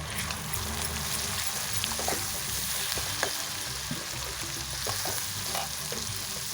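Spices and turmeric frying in a pan for soyabean kofta curry, a steady dense sizzle with occasional stirring scrapes throughout, fairly close and continuous.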